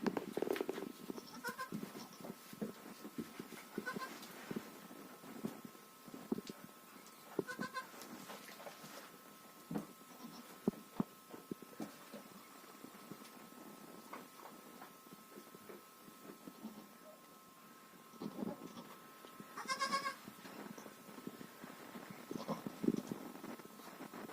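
Several goats bleat across a farmyard, calls scattered at irregular intervals and some nearer than others, over a quiet outdoor background with no talking.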